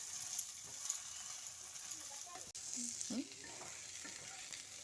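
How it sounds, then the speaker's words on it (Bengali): Eggplant frying with salt and turmeric makes a faint, steady sizzle, with a brief scrape of stirring midway and a short clatter near the end, quiet and close, no talking. "এবার নুন আর হলুদটা দিয়ে বেগুনটা ভালো করে একটু ভেজে নেব"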